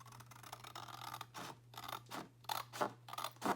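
Small scissors snip off score lines on paper for handmade expandable journal pages, a series of short crisp cuts in an uneven rhythm, close and fairly quiet over a steady low hum.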